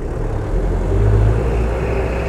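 A restored 1965 Mercedes O 319 D diesel bus engine drones loud and steady at close range, a deep rumbling hum that swells slightly midway with no talk over it.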